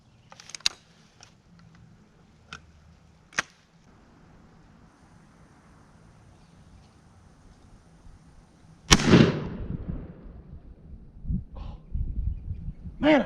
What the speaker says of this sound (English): Man, I hate shooting this gun.